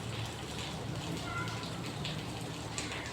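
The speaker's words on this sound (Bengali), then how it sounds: "আমাদের এখানে আজকে 3 দিন যাবত এভাবেই বৃষ্টি পড়তেছে" Steady rain falls evenly, a continuous soft hiss of drops on surfaces with no pauses or change in intensity.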